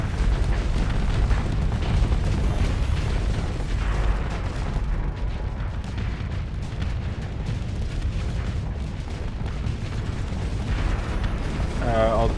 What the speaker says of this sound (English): Yeah, some more rockets.